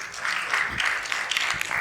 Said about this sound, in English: please welcome Mr. Krishnan with a huge round of applause